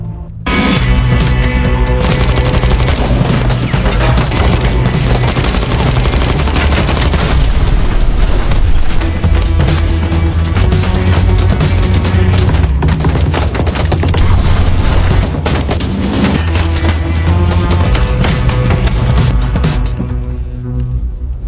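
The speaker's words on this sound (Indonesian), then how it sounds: "ternyata Izel masih hidup dan berhasil menembak sahabat Sarai sebelum akhirnya Izel juga dihabisi oleh Victor" Gunfire in an action film scene, loud, dense, continuous bursts of shots and booms layered over a full soundtrack for the whole stretch.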